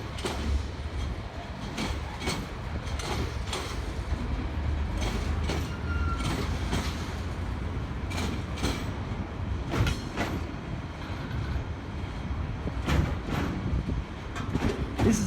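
A train rolls past on rails in the Stratford area, steady and close, with repeated clickety-clack wheel beats over a constant low rumble.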